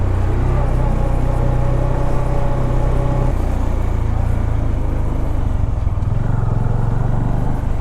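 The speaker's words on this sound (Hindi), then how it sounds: "पूरी लोडेड बाइक है, लेकिन फिर भी इतने हाई एल्टीट्यूड पे बहुत अच्छे से चढ़ पा रही है।" A fully loaded motorcycle carrying a pillion rider climbs a high-altitude mountain trail in Himachal, its engine droning loud and steady with a deep hum, shifting pitch midway and joined by wind rush.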